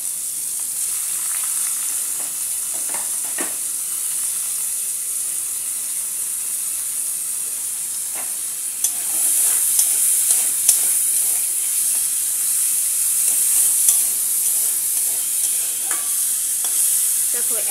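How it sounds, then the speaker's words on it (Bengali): Onions fry in hot oil with a bright, continuous hiss that grows slightly louder partway through, dotted with faint stirring clicks. "পেঁয়াজটা আমি ডাইরেক্ট ভাজা করে নেব"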